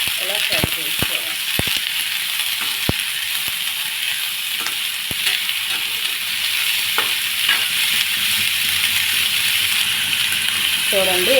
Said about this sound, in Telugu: ఇలా దొండకాయ ముక్కలు వేసుకొని ఇలా ఫ్రై చేసుకోవాలి.